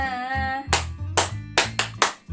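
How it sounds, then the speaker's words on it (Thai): Hands clapping in front during a children's movement activity: after a soft musical tone, four sharp, evenly spaced claps ring out, close and loud, each with a brief decay. "ปรบมือข้างหน้า"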